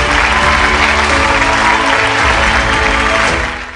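Loud, sustained applause from an audience giving a standing ovation to welcome a guest at a live event, dense clapping throughout that tapers slightly at the end.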